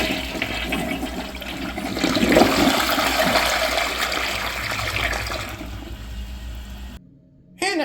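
A first-generation Gerber Avalanche toilet from the 2000s flushes with a loud, steady rush of water that holds for about five seconds, then fades to a trickle before cutting out abruptly.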